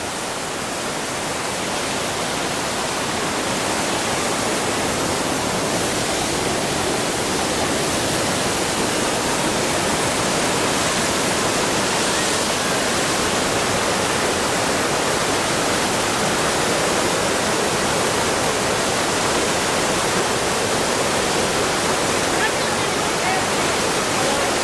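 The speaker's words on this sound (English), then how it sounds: "It's not a very big river, but look what a big fall we got there." Roar of the Argentinian side of Iguazu Falls on a small river, a loud, steady broadband rush of falling water that holds constant throughout, with no pauses and no clear voices above it.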